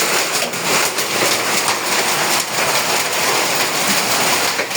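Heavy hailstorm with rain in Ashulia, Zirabo, a dense, steady roar of pouring rain and pelting stones across the whole stretch, loud and continuous with no talk.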